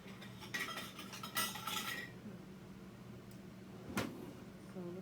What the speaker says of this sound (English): Looking for lids in all the right places